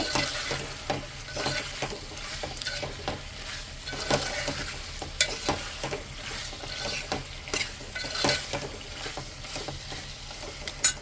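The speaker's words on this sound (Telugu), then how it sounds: "కారం పొడి మొత్తం కలిసే వరకు మంచిగా కలుపుకోవాలి" Chicken curry with chili powder gets stirred in a sizzling pan, the spoon scraping and clacking in an irregular rhythm over a constant close frying hiss, with no voices.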